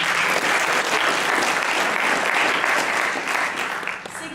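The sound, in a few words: audience applause at a debate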